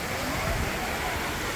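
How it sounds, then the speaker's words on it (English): Waterfall at Pawna Dam near Pune, India: a steady broadband rush of falling water fills the clip at an even level, with faint low rumble beneath and no clear speech. "You can see waterfalls."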